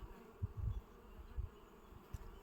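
Bees hum in low, soft buzzing bursts that rise and fade several times, close but quiet, with no talking.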